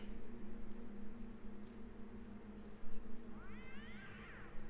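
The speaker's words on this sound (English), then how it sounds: "Screaming cat." Ambient hum in the video game Morrowind, then a cat's wavering, screeching yowl rises near the end, moderately loud over the low drone.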